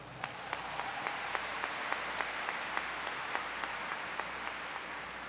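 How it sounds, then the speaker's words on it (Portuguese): Congregation applauding during a Catholic sermon, fairly faint and distant sustained clapping with a few sharper, regularly spaced claps standing out near the front. "Aplaude essa palavra."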